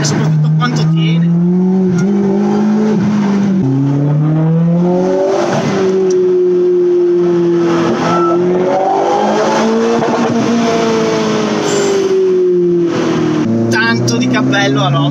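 A Lotus Elise 220 Sport with an electronic Bosch differential is driven hard on a race track, its engine loud and continuous as it revs up and down through gears, with a brief tire squeal.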